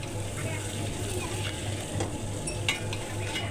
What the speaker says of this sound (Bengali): এখন ঢাকনা তুলে আমি আবার নেড়ে চেড়ে দেব।